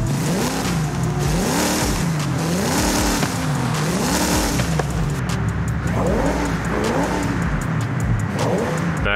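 A car engine in the video game Forza Horizon 5 revs repeatedly in rising and falling surges, loud and close, over a steady engine drone with no talking.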